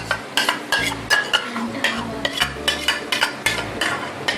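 Whipped yogurt being stirred into sizzling masala for chicken biryani, with a spoon scraping the pot in a quick regular rhythm over a constant frying hiss, close and fairly loud.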